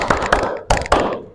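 Hands clapping in a classroom ice-breaking clap game, four distinct sharp claps spaced unevenly across a short stretch, close and fairly loud with no talking.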